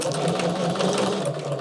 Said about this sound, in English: Come on, sewing machine, come on.